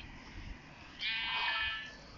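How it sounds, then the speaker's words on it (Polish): One bleat from a white sheep in the video game Minecraft Earth, a short wavering, nasal cry rising over a faint background hum, with no talk. "Białą owcę mam już."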